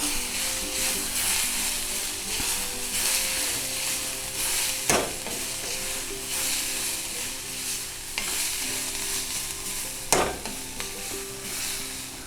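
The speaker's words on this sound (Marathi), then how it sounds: "आता गॅस कमी ठेवून हळूहळू परतायचं" Onions with masala stir-fry over a low flame in a steady, soft sizzle. A spatula stirs throughout, with two sharper knocks against the pan partway through, and no voices.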